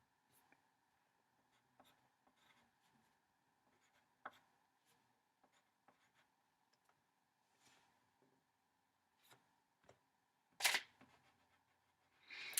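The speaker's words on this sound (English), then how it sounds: "I'm going to write one on the board again" Marker or chalk scratches on a classroom board while fractions are written out, soft short strokes and taps spaced irregularly against a quiet room, ending with a louder rustle near the end.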